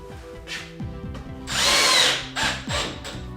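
Cordless power drill driving a screw into plasterboard on a ceiling, the motor whirring in short bursts that ramp up and down, close and loud.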